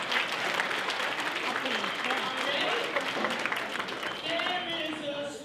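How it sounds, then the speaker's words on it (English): An audience at a biennial breakfast ceremony claps for a committee, a dense, steady round of applause that fills the moment and tapers slightly at the close. "Let's give this committee just one more round of applause"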